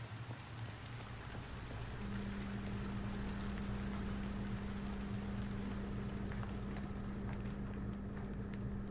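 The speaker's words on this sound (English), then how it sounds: "I love the sound of rain." Steady rain falls with a dense, even patter of drops, joined by a constant low hum. No voices are heard.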